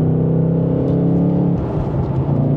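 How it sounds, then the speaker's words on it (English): Ford Mustang Dark Horse with a 6-speed manual heard from the cabin, a deep steady engine drone whose pitch drops and rumbles as it downshifts into a curve, loud and close. "a little curve right here, the downshifts are perfect"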